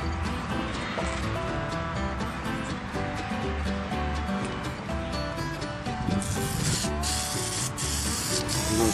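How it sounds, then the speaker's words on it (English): A continuous hissing spray from a Misto pump sprayer misting olive oil onto chicken, going steadily for several seconds with brief bursts near the end. "I'm gonna spray this chicken down."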